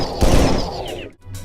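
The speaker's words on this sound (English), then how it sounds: "our player's chain gun sound will be low-passed" Player's chain gun in a video game demo, muffled and low-passed: a rapid burst of heavy, dull rounds that cuts off sharply, followed by a brief quieter rumble.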